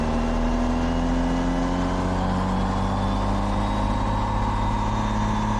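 A 6.7 Cummins diesel pickup engine drones steadily under throttle, its pitch rising slowly as it pulls, loud and close with no voices.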